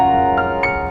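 A restored 149-year-old piano plays sustained notes in a short, loud excerpt, with two soft note onsets ringing over a steady held chord.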